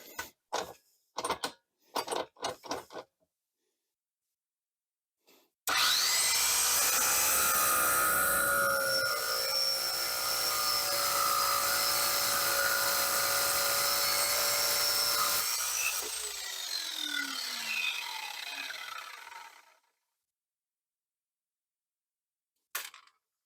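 A Harbor Freight Drill Master 6-inch cut-off saw cuts through a hardened steel linear rod. After a few sharp taps, there is a loud, sustained high-pitched grinding whine lasting about ten seconds, then the motor spins down, with no voices.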